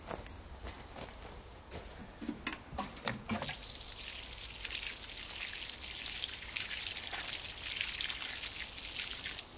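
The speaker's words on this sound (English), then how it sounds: "Just going to water them in now." Water poured over newly planted vegetable plants in a small allotment garden, a steady close trickle and splash on soil and leaves lasting throughout, with a few scattered footsteps and knocks at the start.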